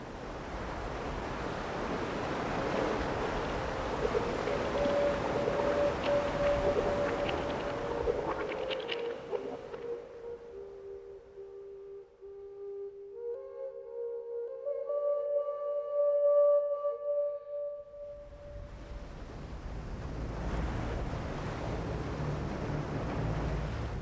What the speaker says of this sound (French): des vagues chaotiques et dangereuses qui rendent impossible les plongées